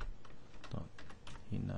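Typing on a computer keyboard while entering an email address into Microsoft Outlook 2003, soft irregular key clicks in short bursts, faint and close, with a voice speaking over them.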